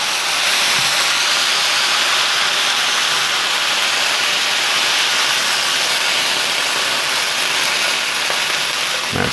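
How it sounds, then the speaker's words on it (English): Steady, loud broadband hiss of water steaming and sizzling in a hot frying pan with sausage and cabbage, continuous throughout with no talking. "That steam just kind of intensifies the heat."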